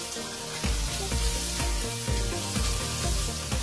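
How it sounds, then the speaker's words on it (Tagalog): Garlic, siling labuyo chili and onions sautéing in a hot pan for callos: a steady, fairly close sizzle with brief knocks and stirring clatter throughout. "Igisa-gisa lang ito hanggang sa maamoy na ang bango ng mga sibuyas."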